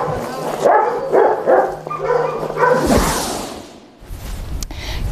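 A therapy dog visiting a prison gives a series of barks and yips up close, followed by a whoosh of handling noise and a quieter stretch.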